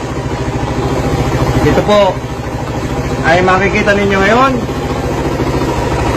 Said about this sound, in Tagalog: ang motorsiklo na tumatakbo sa Daso Water Fuel